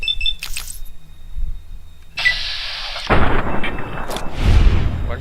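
A gunshot rings out in the video game Fallout: New Vegas, a sudden loud crack that opens into a heavy booming rumble, preceded by quieter clicks and a bright metallic burst.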